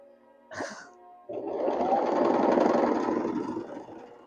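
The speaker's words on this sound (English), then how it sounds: "let me sew this together" A sewing machine stitching fabric runs in a steady whirring burst of about three seconds, close and fairly loud, after a brief clunk and a short pause.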